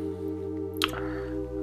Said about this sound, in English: We're gonna fill the goblet with the water.